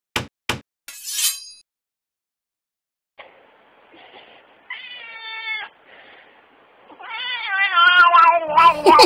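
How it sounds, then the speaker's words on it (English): A cartoon cat meows from a screen in a funny animal clip, several drawn-out wavering meows that build to a loud caterwaul near the end, after a few sharp clinks and a short silence. "Funny cat videos."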